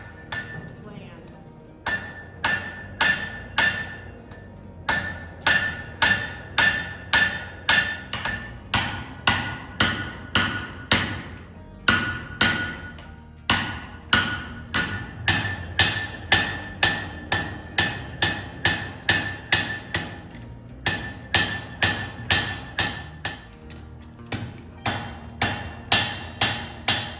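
Steady metallic hammer blows on hot metal at a forge ring out in a fast, regular rhythm, dozens of sharp clanging strikes with brief pauses between bursts.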